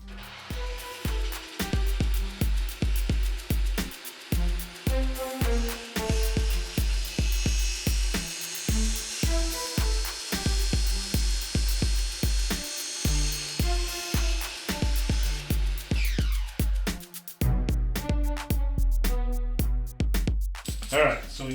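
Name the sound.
drilling through a 3D printer spool holder part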